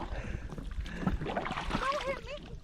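Kayak paddle strokes on water: faint splashes and gurgles with some wind buffeting the mic, while a person speaks over them.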